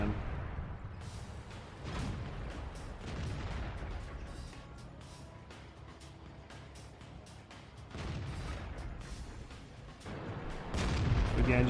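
Tank cannon shots and booming impacts in World of Tanks ring out intermittently over a low rumbling battlefield bed, a few dull blasts spaced several seconds apart at moderate loudness.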